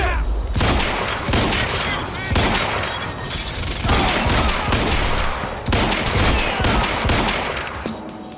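Heavy exchange of gunfire in the video game Quantum Break, loud rapid bursts of automatic shots in waves with brief lulls, mixed with shouted voices over the firefight.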